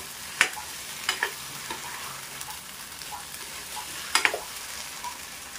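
Food is stirred and mixed in a hot pan over a low sizzle, with sharp spoon scrapes and clinks at irregular intervals, up close and without talking.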